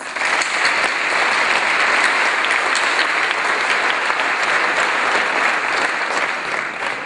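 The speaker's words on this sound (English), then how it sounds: "Let's give them a big round of applause." Sustained, loud round of applause from a large crowd at a 2014 Roosevelt Alternative High School graduation ceremony, dense steady clapping filling the whole stretch without letting up.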